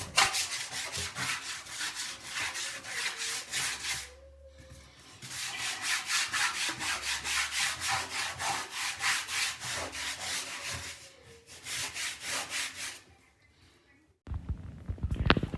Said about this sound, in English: if you hear the scrubbing and my voice in there